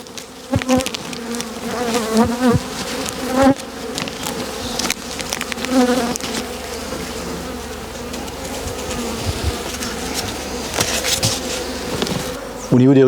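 Honeybees swarm around an open beehive during late-winter feeding, waiting for goat willow bloom; a steady, close insect buzz fills the whole stretch, with occasional louder passes as individual bees fly near.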